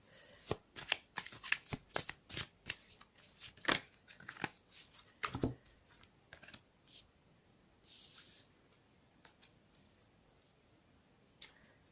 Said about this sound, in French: je vais donc tirer des cartes concernant l'issue